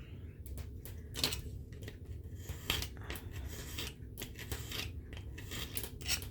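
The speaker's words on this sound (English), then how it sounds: "I'm actually gonna cut everything off here." Scissors cut through craft material in a series of crisp, close snips at an uneven pace, fairly quiet, with no talking.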